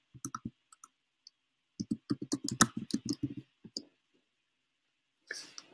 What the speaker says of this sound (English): I just type the email into the chat.